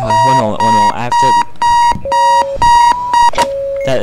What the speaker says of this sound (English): there's an alarm clock in the game, and it went off